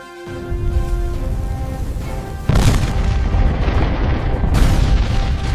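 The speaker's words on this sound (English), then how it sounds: "A cataclysmic explosion ripped the Campbeltown, the gate, and the dock apart." A deep booming blast erupts as 4.5 tons of explosives aboard the ship Campbeltown destroy a dock gate at St. Nazaire, followed by a second heavy explosion, both loud with rumbling low-end that lingers between them.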